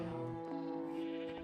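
A sheep bleats in the Minecraft video game on a livestock farm, one drawn-out, wavering call that holds steady at moderate loudness with no talk over it.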